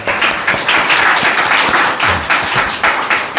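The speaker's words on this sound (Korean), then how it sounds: "우리 문화부 박수로 격려 한번 합니다" Loud, hearty applause from a congregation at a Friday prayer service, close and continuous with rhythmic surges of clapping.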